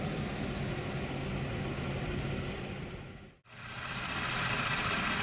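A 3.6 liter General Motors V6 in a 2017 Buick Enclave runs at a steady hum, constant and fairly loud. The sound drops out briefly about two-thirds of the way through, then resumes.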